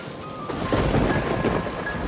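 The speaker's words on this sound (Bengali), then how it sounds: "বলতে না বলতেই ঝড় শুরু হয়ে গেল" A thunderstorm with a low rolling rumble of thunder over steady heavy rain, loud and close, with no voices.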